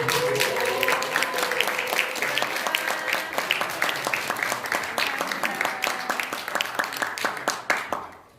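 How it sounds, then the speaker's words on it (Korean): An audience at a university ceremony claps steadily for several seconds, dense and lively, then the applause thins and fades out at the end. "오늘 먼저 박수 한번 같이"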